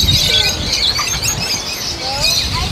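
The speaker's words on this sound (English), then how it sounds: "Hella birds." Many birds chirping and squealing at Sea Life Park on Oahu, a dense, loud chorus of high calls close by, continuous throughout the short stretch.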